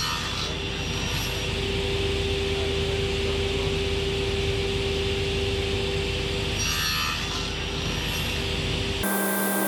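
A table saw rips thin wood strips for a Kumiko window panel, producing a steady, loud whining buzz of the spinning blade through the cut, ending abruptly as the saw stops near the end.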